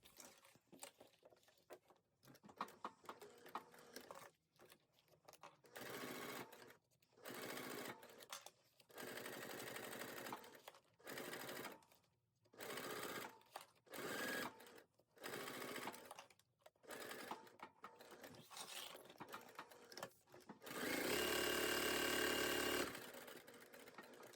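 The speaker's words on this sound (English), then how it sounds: "go back to the machine and we're going to stitch around all 4 edges of this using a 1/8 seam allowance" A sewing machine stitches around the four edges of a fabric clutch wallet with a 1/8 inch seam allowance, running in many short, quiet bursts with pauses between, then one longer run near the end.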